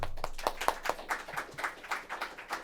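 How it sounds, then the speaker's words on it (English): Scattered hand clapping from a small audience at a talk on an overlooked commodity, a sparse, uneven patter of claps that builds slightly and tapers, close and moderately loud with no talk. "A little applause"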